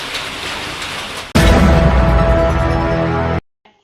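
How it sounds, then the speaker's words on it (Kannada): Heavy monsoon rain pouring across Uttara Kannada district, a dense steady hiss that jumps to a louder, fuller roar partway through and then cuts off abruptly. "ಉತ್ತರ ಕನ್ನಡ ಜಿಲ್ಲೆಯಲ್ಲಿ ವ್ಯಾಪಕವಾಗಿ ಮಳೆ ಸುರಿಯುತ್ತಿದ್ದು"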